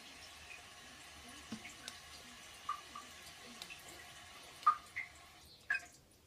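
A toilet tank leaking water below the flapper gives faint, sparse drips and small trickling plinks over a quiet background hiss, with a few slightly louder drops toward the end.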